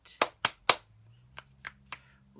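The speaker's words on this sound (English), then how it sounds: "I almost got a clap snap back" Three sharp hand claps in quick succession, then three softer finger snaps, close and alone in a quiet room during a seated body-check session.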